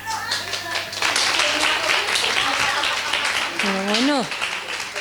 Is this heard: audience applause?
yes